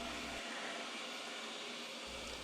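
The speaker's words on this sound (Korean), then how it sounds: "지금 보시면 청소기가 의자 사이를 지나가려고 이렇게 고생하는 것 보이시죠?" A Roborock S8+ robot vacuum cleaner runs indoors while squeezing between chair legs, giving a steady, fairly close whirring hum with no pauses.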